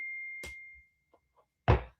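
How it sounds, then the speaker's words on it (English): A phone's text message notification rings out as a single clear ding with a long sustained tone near the start, followed later by a short burst of nearby speech. "My friend just texted me."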